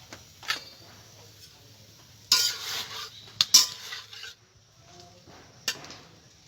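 Pieces of lote (Bombay duck) fish go into a hot wok without water, making short scraping, clattering bursts against the metal amid quiet pauses, with only a faint sizzle.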